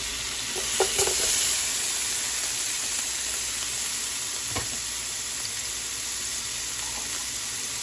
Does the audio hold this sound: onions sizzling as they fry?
yes